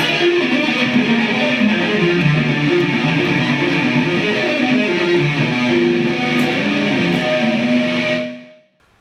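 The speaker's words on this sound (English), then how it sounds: "Okay, so the next scale we're going to use is called the diminished arpeggio." A diminished arpeggio on a distorted, effects-heavy instrument, a dense sustained wash of overlapping notes that rings out for several seconds before cutting off, with no talking over it.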